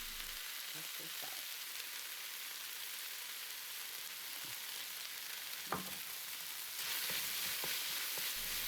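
A minced pork mixture fries in a pan with rice cooking wine and oyster sauce, a faint, even sizzle with a couple of light stirring knocks. The sizzle swells slightly near the end, and no one speaks.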